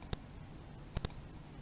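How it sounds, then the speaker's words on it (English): Sharp mouse-button clicks on a computer: one isolated click, then a quick pair of clicks close together, crisp and near against a quiet background. "Let's now try clicking on the screen. I'm clicking."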